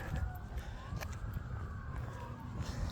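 Sirens wail faintly in the distance, their rising and falling tones drifting over steady low rumbling street noise.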